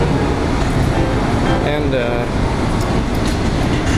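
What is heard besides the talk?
Denver Airport train departing and running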